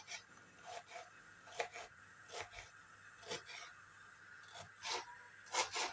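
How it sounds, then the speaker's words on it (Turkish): Knife slicing a medium onion finely on a board, with a steady run of soft, quick cutting taps close by and a quiet background. "Orta boy ince ince doğruyorum."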